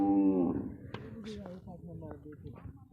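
A large herd of cattle moving in a line on a Padma river char near the India–Bangladesh border, with a nearby low moo at the start and scattered shorter calls and clatter, while a person talks over it.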